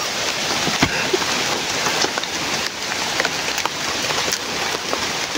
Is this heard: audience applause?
no